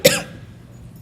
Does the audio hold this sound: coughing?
yes